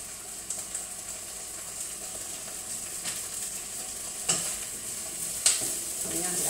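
Chicken curry sauce sizzling as it is stir-fried in a pot, a continuous frying hiss with a couple of sharper spoon scrapes and clatters, close and alone without talk.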